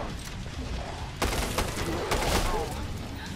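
Grenade launchers fire in Killing Floor 2 as sharp repeated bursts and booms over steady game noise, with a voice talking alongside.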